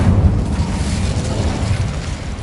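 Roaring fire-spell blast from Incendio in Hogwarts Legacy, a loud, rumbling whoosh of flame that holds steady for a couple of seconds.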